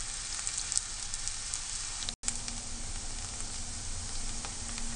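Onions sizzle steadily in sunflower oil in a hot pan, a constant crackling hiss with a brief cut near the middle.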